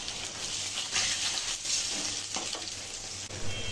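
Onions fry in a pan, giving a faint, continuous crackling sizzle like light rain, alone with no talk.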